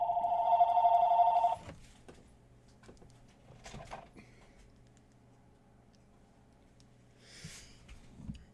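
A landline telephone rings once with a loud electronic trill for about a second and a half, then stops, followed by quiet room noise and faint clicks.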